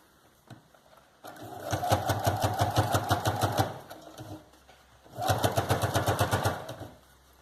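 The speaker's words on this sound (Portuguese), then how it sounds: "Eu vou trocar de volta pro meu pezinho de costura reta. E vou passar essa costura." A sewing machine with a straight-stitch presser foot sews a seam on a zipper pouch, in two close, rhythmic bursts of rapid needle clatter separated by a short pause, with no talking.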